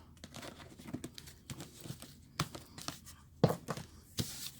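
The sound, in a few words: cutting and shuffling a deck of tarot cards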